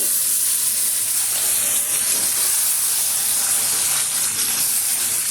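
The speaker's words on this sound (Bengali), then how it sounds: "এবার আমি ম্যারিনেট করা চিকেনগুলো দিয়ে দিচ্ছি" Steady loud sizzling and hissing of marinated chicken frying in hot oil for murgh pulao, continuous throughout with no talking.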